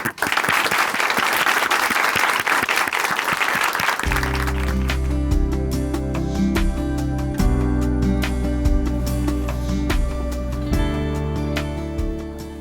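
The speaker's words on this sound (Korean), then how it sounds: "춘천 한마음교회 김동현 형제님 박수로 모시겠습니다" Loud applause from a church audience welcoming a speaker fills the first few seconds, then gives way to steady music with the clapping fading under it.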